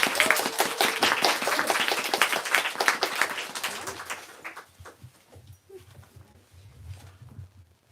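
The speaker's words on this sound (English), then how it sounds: "Let's give one more round of applause for the excellent conversation" Applause from an audience after a book talk, a crisp burst of many hands clapping that thins out and fades, leaving quiet room sound with a soft murmur.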